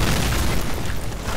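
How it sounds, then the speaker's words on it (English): A booby-trapped door is blown open by a plunger-detonated charge in the World War II shooter Medal of Honor: Allied Assault, a loud, close, rumbling boom that fills the short moment. "the door's rigged to blow"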